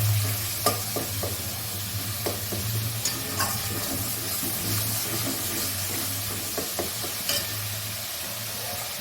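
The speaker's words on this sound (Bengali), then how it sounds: "মশলায় দেখুন তেল ছেড়ে দিয়েছে, তার মানে মশলাটা কষা হয়ে গেছে। টমেটোটা একটু গলিয়ে দিই।" Tomato sizzles in oil-rich spice paste in a pan for a Bengali banana-flower and prawn dish, with a steady frying hiss and repeated scraping taps of a spoon stirring.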